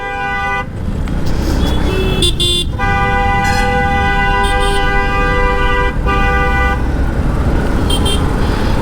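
Car horns honk repeatedly, long overlapping toots, over steady road and engine noise in a crowd of riders heading to a Yamaha track day on an MT-15 motorbike.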